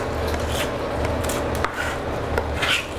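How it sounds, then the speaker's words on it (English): A kitchen knife chops and rocks through garlic on a cutting board to work it into a paste, a steady run of dense scraping taps heard close up with no talk. "keep chopping it until you have what most people"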